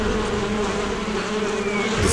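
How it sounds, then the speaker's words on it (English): Flies swarming, giving a dense, continuous insect buzz that stays steady and close for the whole stretch with no talking. "flies swarm to the body."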